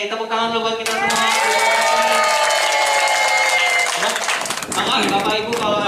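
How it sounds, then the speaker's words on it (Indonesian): Audience members at a community waste-bank anniversary event applaud and cheer loudly for several seconds, with clapping continuous throughout and a voice speaking over the crowd near the start. "Yeay, tepuk tangan dulu buat kita semua."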